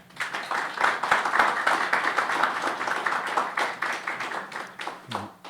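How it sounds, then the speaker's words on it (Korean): An audience at a church founding service applauds in a dense, steady patter of clapping that builds quickly and then tapers off near the end. "박수로"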